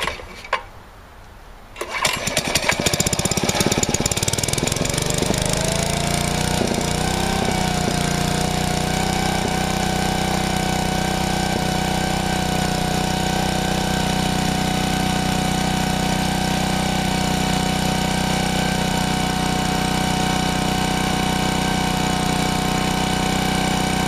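A Generac 750-watt portable generator engine starts after a brief quiet moment, then runs steadily and loudly at a constant drone, close by and alone with no talking.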